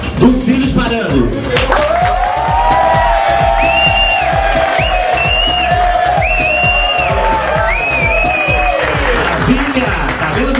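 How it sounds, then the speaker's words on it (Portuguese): A crowd at a drag show contest claps and cheers loudly, with whoops and shouts rising over sustained applause throughout. "E agora, os aplausos de vocês para a candidata dos Cílios Parando."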